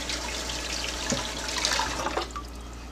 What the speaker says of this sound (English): Take off the ring, and then we rinse it off.